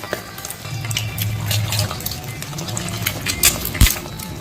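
Egg yolks sizzle and spit in hot oil in a pan, a steady close frying crackle with a few sharp clinks of utensils against the pan.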